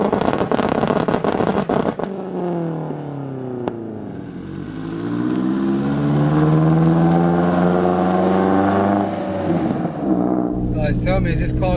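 A 544bhp Audi S3 pulls away and accelerates hard, its engine note rising steadily through the revs in one long loud pull, then easing off with some crackle near the end.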